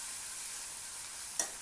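Garlic and soaked mung dal sizzle in hot oil, a steady close hiss broken once by a short stirring scrape, with no voices.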